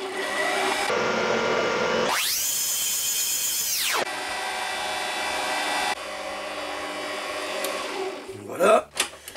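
An electric hand mixer whirs steadily through butter, sugar and egg for frangipane, rising to a higher-pitched whine for a couple of seconds, then dropping back before switching off with a few clattering knocks.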